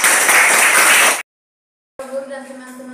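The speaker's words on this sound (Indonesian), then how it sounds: "tepuk tangan" Applause from a grade 9 social studies class at an Indonesian junior high school, a dense burst of many hands clapping that stops abruptly, then a short silence before a single voice begins speaking.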